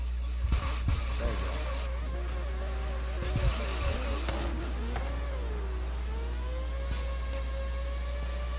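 A race car engine in the Forza video game drones and revs in a thin, buzzing tone, holding a steady whine that rises and falls in pitch, with no talking over it.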